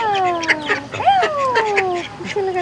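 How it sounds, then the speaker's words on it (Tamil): Chickens cluck and call close by, with several gliding, drawn-out notes overlapping against a quiet farmyard backdrop. "கோழி"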